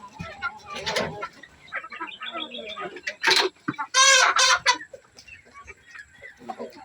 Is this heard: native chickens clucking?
yes